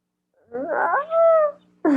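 A dog whimpers in two drawn-out, rising and falling whines, close and clear, followed by the start of a third cry, with no talk over it.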